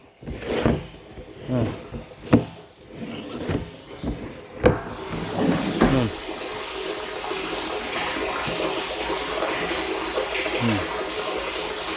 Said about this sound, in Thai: น้ำมันไม่แรง แต่มันไหลตลอดนะครับ